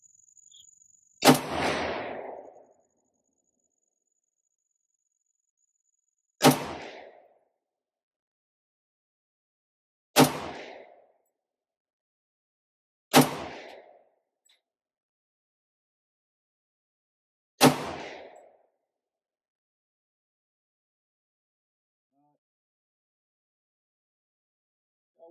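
An AR-10 rifle chambered in .308 with an 18-inch barrel firing at a shooting range: five loud, sharp single shots spaced several seconds apart, each with a short fading echo, with quiet between shots and no talk.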